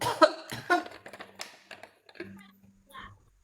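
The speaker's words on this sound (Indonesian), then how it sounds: "Batuk." A few sharp, close coughs in quick succession at the start, followed by quieter scattered clicks and a faint low hum.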